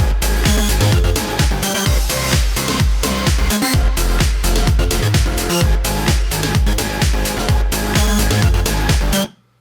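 Electronic dance track built from a layered, grooving bass line over hi-hats and extra percussion, playing loud and steady with punchy rhythmic hits throughout before cutting off abruptly at the end.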